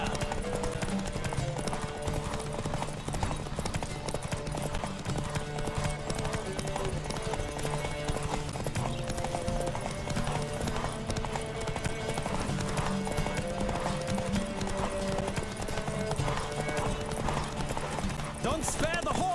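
Rhythmic hoofbeats of a horse galloping in The Witcher 3: Wild Hunt, steady and fast, with music and other game sounds layered underneath.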